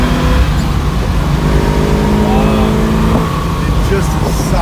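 A 1971 Chevrolet Camaro Z/28 engine accelerates loudly and steadily, its rising drone filling the whole stretch close up with no break.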